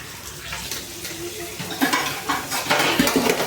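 Metal pots are scrubbed and rubbed close up, with irregular scraping strokes and some watery splashing that grow louder toward the end.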